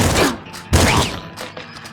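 Shotgun blasts in the video game Nuclear Throne: two sharp, loud bursts about half a second apart, each with a crackling scatter, followed by fainter pops and clatter.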